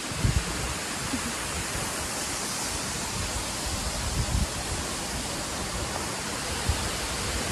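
The Theth waterfall in Albania roars as a constant, dense wash of falling water, loud and close, with no voices over it.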